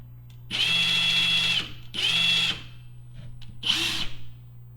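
A Snap-On impact wrench on its lowest setting runs free at 870 RPM in three short bursts, a close high-pitched whirring whine that starts and stops, over a steady low background hum.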